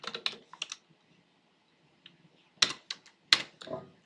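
Keys on a computer keyboard clatter in short bursts of crisp clicks while code is typed, with pauses between flurries and a couple of louder key strikes, close and clear.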